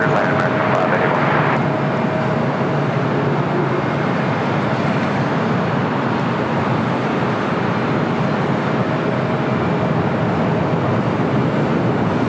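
A Boeing 777 freighter on LAX runway 25 left makes a steady, broadband jet engine roar that holds evenly throughout, with a faint tonal whine on top and no voices.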